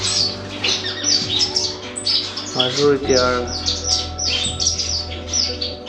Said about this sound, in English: cutthroat finch female